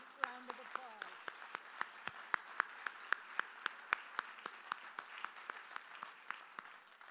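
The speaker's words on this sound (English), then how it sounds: "And that deserves a huge round of applause." Applause at a university law students' anniversary gala: fairly sparse, steady clapping that keeps up in a regular rhythm for several seconds.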